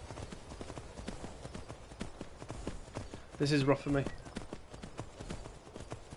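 Horse hooves clip-clop in a steady, brisk rhythm during a ride in the video game Skyrim, moderately loud, with someone speaking briefly over them midway.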